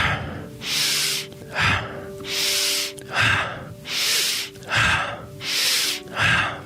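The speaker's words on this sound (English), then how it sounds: "I am inhaling through the nose." Breathing exercise with rapid inhaling through the nose, about five loud sniffing breaths in an even cycle, each roughly a second long and followed by a shorter exhale, close and alone.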